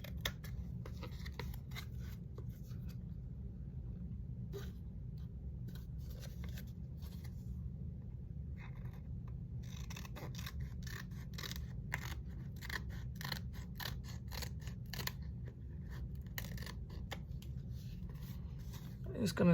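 Scissors snip around the edges of a craft embellishment, with soft, frequent cutting strokes close up over a low steady background hum.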